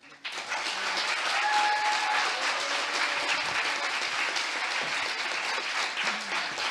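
An audience applauds steadily at a marketing event, a dense wash of many hands clapping that swells quickly and holds loud for several seconds.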